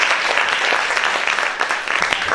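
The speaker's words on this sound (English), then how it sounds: "Please give them a big round of applause." An audience applauds panel speakers at an Inspiring Indian Women discussion, a dense, loud, continuous wash of clapping throughout.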